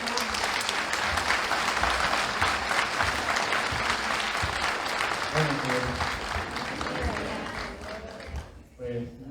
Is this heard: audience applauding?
yes